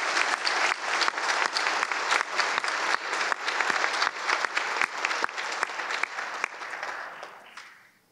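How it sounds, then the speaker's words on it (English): A large audience at a high school senior awards night claps steadily in dense, loud applause with a few sharp nearby claps standing out, holding strong for about seven seconds before quickly tapering off at the end. "So I just want another round of applause for this amazing"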